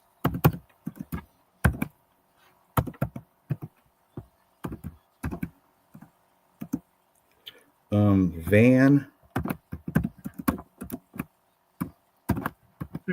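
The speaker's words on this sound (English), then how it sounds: "how much typing do you need to do?" Keyboard typing heard as sparse clicks and taps scattered among conversational speech, with a louder burst of voices in the middle; the keys sound close but light and intermittent rather than continuous.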